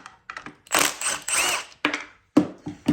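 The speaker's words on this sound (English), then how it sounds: "Yank these castle nuts off." Castle nuts worked off a Kawasaki 650 jet ski with a 10 mm tool, giving close metallic clicks and scraping rattles in short bursts with gaps between them.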